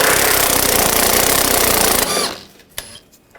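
Impact wrench or ratchet running loud and steady as a 13mm socket spins out strut bolts on a 2014-2020 Nissan Rogue front strut assembly, buzzing continuously for about two seconds, then stopping, followed by a few faint clicks.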